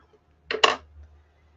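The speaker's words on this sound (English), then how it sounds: "use my big scissors for this because it cuts it well." Two quick crisp snips close together, like scissors cutting through ribbon, in an otherwise quiet room.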